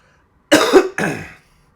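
Two quick, harsh coughs in succession, close and clear against silence.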